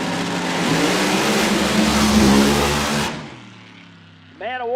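Funny Car drag racing engine at a Funny Car Chaos nitro event, a loud raw roar for about three seconds that cuts off abruptly as the car lifts off the throttle, with an announcer speaking over it.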